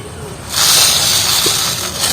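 White mustard seeds hit hot oil in a wok and burst into a loud, close, continuous sizzling hiss that holds steady after starting abruptly.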